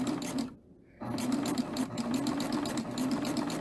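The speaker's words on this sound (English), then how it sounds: "What I'm doing is I'm just stitching over the cord" An overlocker runs steadily as it stitches over a cord laid on fabric, a loud close mechanical whir with a brief pause near the start before it resumes.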